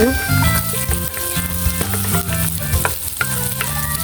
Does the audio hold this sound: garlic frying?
yes